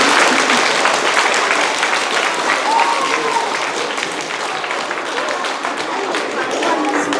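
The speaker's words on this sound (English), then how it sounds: "How about one more round of applause for Mr." A school audience applauds a departing teacher, Mr. Goebel, with steady, dense clapping for the whole stretch at close range and strong volume, with faint voices mixed into the crowd.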